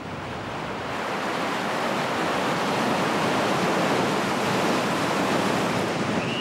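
Ocean waves break at the Biarritz surf beach in a continuous, full roar of surf that swells slightly and holds steady, with no voices.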